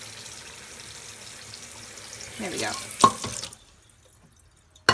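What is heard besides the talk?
water being poured into rice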